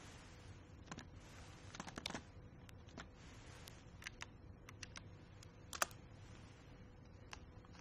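Search query keyed in on a computer keyboard: quiet, irregular clicks and taps in bursts over a faint steady background, close and soft.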